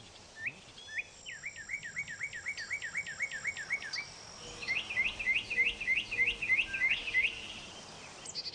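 A mockingbird sings a varied string of repeated chirping phrases mimicking other sounds, switching between different patterns, clear and fairly close in a garden with no voices.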